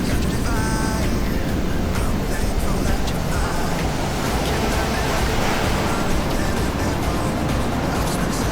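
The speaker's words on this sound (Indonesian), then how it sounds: "untuk ombaknya udah gede banget ya" Constant roar of large ocean waves surging onto a beach at Pantai Krokoh in Gunungkidul, a loud, unbroken wash of surf with wind noise and no clear gaps.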